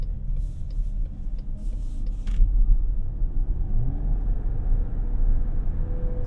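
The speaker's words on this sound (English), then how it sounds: "it does have a fair bit of road noise for the price point" Steady low road rumble in the cabin of a 2024 Chrysler Pacifica Pinnacle plug-in hybrid minivan while driving, a continuous broadband drone with slight swells and no talking.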